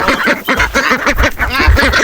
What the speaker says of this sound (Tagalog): Sa mga Peking duck, lumalapit pag gutom